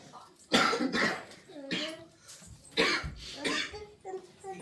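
A child coughs in several harsh bursts, interspersed with short whimpering vocal sounds, close to the listener.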